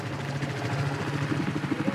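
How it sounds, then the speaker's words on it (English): Helicopter in a Battlefield game: a steady, close, low rotor thrum with a pulsing throb that grows slightly heavier over two seconds, with no talk. "Oh, can I get this chopper?"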